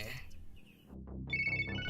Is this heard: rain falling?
no